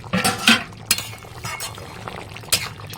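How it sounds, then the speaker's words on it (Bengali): Fish curry being stirred in a pan, soft scraping and clinking of a utensil in a thick simmering gravy, a few distinct strokes close up. "এবার নাড়িয়ে দিই তাহলে"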